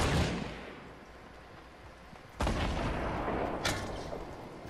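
Gunfire in the Fortnite battle royale game near Loot Lake: a dense burst at the start, then a loud sharp volley midway and another shot shortly after, ringing over a noisy background.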